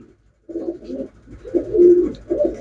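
Pigeons coo in low, throaty bursts, several overlapping calls rolling one after another close by after a brief silence, with no talk.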